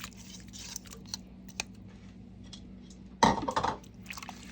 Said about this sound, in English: So I'm just going to be adding my shrimp.